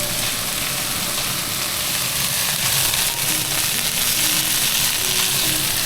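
Green chillies frying hard in a pan for a curry, a loud, dense and continuous sizzle that stays even from start to finish, with no voices over it.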